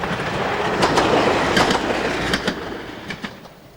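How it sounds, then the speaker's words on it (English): A British Rail Class 121 bubble car diesel railcar runs past steadily, with rumbling rail noise and a few sharp wheel clicks over the track joints, fairly close and continuous throughout. "Class 121 bubble cars were in operation during the winter"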